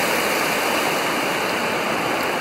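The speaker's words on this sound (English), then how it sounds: "This is the White River." The White River, a mountain river below Mount Davie near a cableway, rushes in a steady, loud broadband roar of flowing water, continuous and unbroken with no voices.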